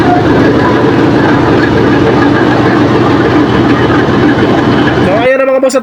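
A loud, steady heavy drone of a Yanmar ship diesel engine runs continuously up close, then cuts to a quieter, rattling mechanical tone near the end.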